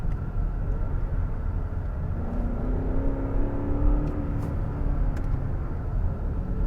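A 2020 Genesis G90 luxury sedan with a 5-liter V8 and 8-speed automatic revs up from inside the cabin, a steady low engine drone rising in pitch midway. No talking is heard over it.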